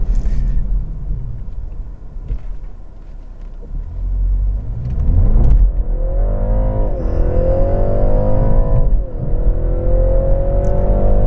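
2021 BMW 330e plug-in hybrid with a 2-liter engine and dual exhaust revving, a loud, close, growly rumble whose pitch climbs and falls in several sweeps before settling into a steady drone.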